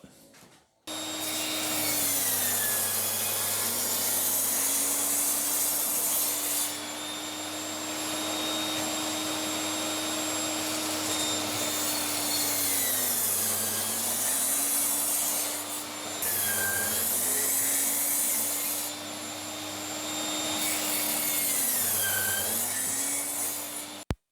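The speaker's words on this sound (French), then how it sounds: "je vais passer ça à la scie" A power saw whines steadily through wood, its pitch dipping briefly every few seconds as the blade bites, continuing for a long stretch without talk.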